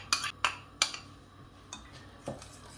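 Macaroni gratin with crème fraîche stirred in a pot, with the off-heat mixing giving a few sharp utensil knocks against the pan, then softer scrapes, close and fairly quiet.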